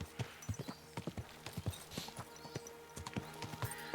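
Horse hooves clip-clop steadily in the medieval video game Kingdom Come: Deliverance 2, a quick regular rhythm of close, distinct hoof strikes over a soft ambient bed.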